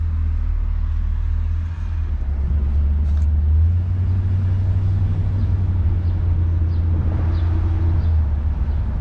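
The interior of a 1966 Ford Galaxie 500 convertible carries a steady, loud low engine rumble and road drone as it drives along neighborhood streets, with no one speaking.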